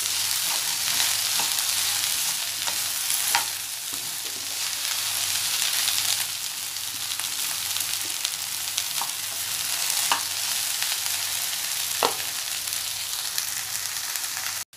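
Okra sautéing with onions in a pan, a steady close sizzle with occasional spatula scrapes and taps against the pan running throughout.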